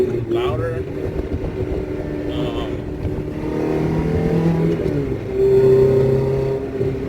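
A Toyota Corolla XRS fitted with a new StreetWerks throttle body idles and revs steadily, its engine drone continuous and fairly loud, with a voice talking over it.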